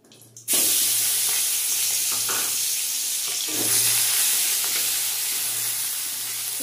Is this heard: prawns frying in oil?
yes